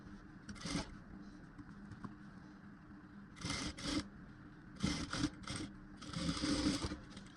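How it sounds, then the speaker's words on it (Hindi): A sewing machine stitches a V-neck blouse with vertical darts, running in four short bursts of a few seconds each, separated by quiet pauses, with faint handling noise between runs. "अब इस पर सिलाई करते हैं, चलिए।"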